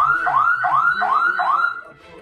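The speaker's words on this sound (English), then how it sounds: "the alarm went off on the house" A house alarm blares nearby in loud, repeated rising electronic whoops, about four cycles in quick succession before it starts to fade.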